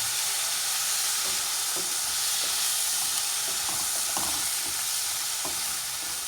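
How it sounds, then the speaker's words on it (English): Soy sauce poured over ramen sizzles and hisses steadily in a hot pan, a continuous close frying crackle with a few stirring clicks and no talk. "Soy sauce on top just to cook it out."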